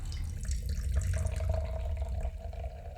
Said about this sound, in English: Go ahead and pop that open. Pour yourself a good little mount down there.